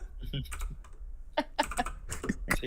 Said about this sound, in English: I am a slow typer.